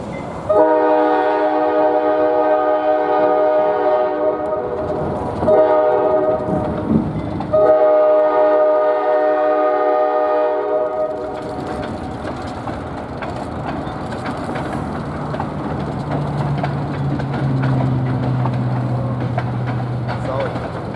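Ohio Central railroad train crossing over Arch Hill Road beside Interstate 70, a loud sustained multi-tone horn blast broken briefly, then the rumbling, clattering roll of the cars passing close by.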